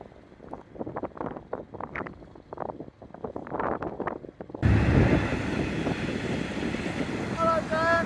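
A train rumbles past close by a narrowboat in winter, a steady roaring wash of noise with gusting wind buffeting the microphone; brief whistle-like tones near the end.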